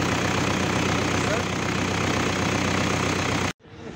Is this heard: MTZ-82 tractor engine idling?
yes